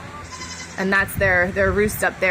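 A male goat bleats in wavering cries close by while a person talks over it.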